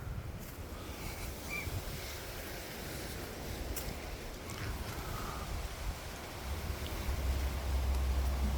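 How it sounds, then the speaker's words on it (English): Dry wind blows steadily in a Melbourne backyard orchard, a broad rushing roar with occasional gusts that swell toward the end. Nobody speaks. "Dry and windy. Windy and dry."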